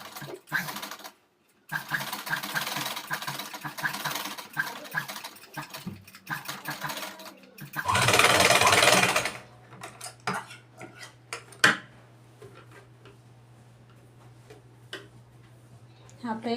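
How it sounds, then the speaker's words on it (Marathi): A sewing machine stitches a cup piece onto a prince-cut blouse, running in rapid mechanical bursts with short pauses and one louder, denser stretch near the end, followed by quieter handling clicks. "आता इथे मी याला शिलाई टाकून घेणार आहे."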